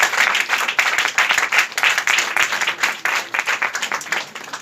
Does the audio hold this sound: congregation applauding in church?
yes